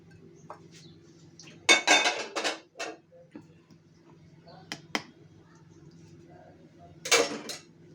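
Raw chicken pieces are laid into a metal baking tray, with a few scattered bursts of clattering and clinking against the pan separated by quiet gaps.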